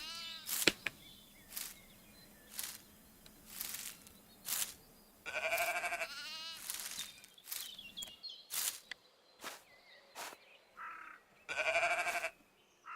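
Sheep bleat repeatedly on a farm where the males are starving and about to be sold off, their harmonic cries coming in bursts of varying length, some close and loud, with brief rustling and knocks between calls.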